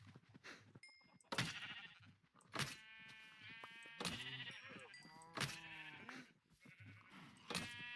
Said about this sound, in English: I'm just going to take a couple of these sheep